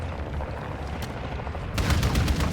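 Gunfire in an online shooter game, a dense rattling stream of shots over steady low game noise, becoming louder and more rapid in the final second.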